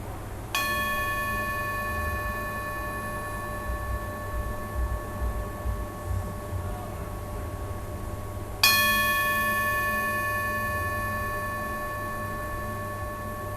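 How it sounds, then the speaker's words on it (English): Two strikes of a meditation bell, one near the start and another about eight seconds later, each ringing out in a long, clear, sustained tone over a low room hum. "I'm gonna ring the bell a few times today"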